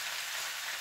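Chicken pieces and vegetables with basil fry in a pan, a dense, even sizzle filling the short moment without any voices.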